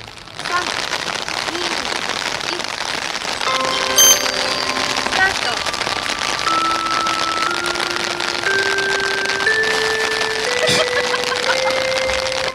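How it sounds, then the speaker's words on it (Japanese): Rain falls steadily outdoors on an open field during a shuttle run test, a continuous broadband hiss that runs throughout, with clear electronic tones and stepped rising beeps layered over it. "この日はあいにくの雨だが"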